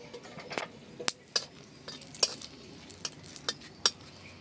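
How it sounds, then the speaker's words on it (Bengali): Two dried red chillies sizzling in hot mustard oil in a wok, a soft steady crackle under a series of sharp metallic clinks and taps from a utensil against the pan, spaced irregularly and fairly close. "এবার তেলের ওপর দিয়ে দিচ্ছি দুটো শুকনো লঙ্কা।"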